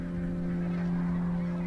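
Migrating geese honk in a continuous overlapping chorus that holds steady throughout and is not covered by any speech.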